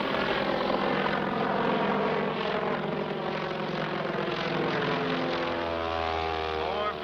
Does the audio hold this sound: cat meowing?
no